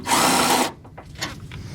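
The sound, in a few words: power tool removing radiator bolts on a Dodge Ram truck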